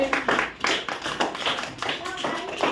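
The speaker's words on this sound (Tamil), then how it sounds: "கைத்தட்டு எல்லாரும்." Children in a classroom clap their hands in short bursts of scattered claps, with a voice heard between them.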